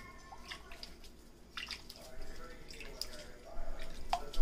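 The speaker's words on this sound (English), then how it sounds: "Second stop, I have to put water." Water being poured into a cooking pot while making vermicelli, a faint, uneven trickle and splash that builds slightly toward the end, heard alone with no talk.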